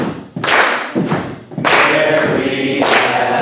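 Hand claps struck in a slow rhythm, a few loud, close claps with full-band bursts and short ringing decay, in an instructor's music class as a beat to sing against; no talking.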